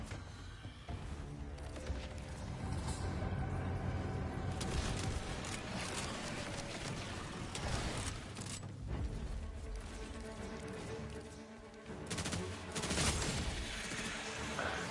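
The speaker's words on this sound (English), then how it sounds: "What I love about this gun is that little explosions blow up all those things at once" Rapid explosive gunfire from a Borderlands 4 weapon, dense bursts of shots and small blasts over busy game mechanics and music, loud and continuous.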